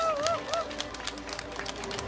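A crowd at an outdoor street rally claps, a busy patter of many hands with faint cheering, while a tonal whistle or voice slides in and out near the start.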